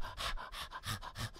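A man imitates a thirsty deer panting, with rapid rhythmic breaths repeated about six times, loud and close, with no other sound.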